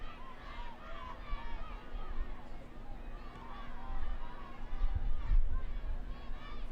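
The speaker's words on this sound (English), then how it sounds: "Good crowd here on Coney Island" A crowd at a Brooklyn FC soccer match at Maimonides Park on Coney Island gives off a steady murmur of distant chatter that swells slightly toward the end.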